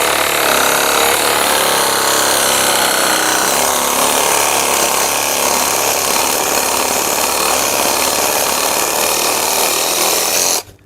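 A WOYOFADA cordless battery saber saw cuts through wood with a loud, continuous buzzing reciprocating rasp that holds steady for about ten seconds before stopping abruptly, close up with no talking.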